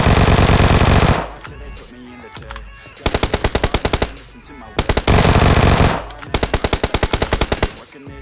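Victor gunfire in PUBG: loud, rapid automatic bursts come in several clusters, with dense, noisy blasts between them, close and forceful throughout, with no voice.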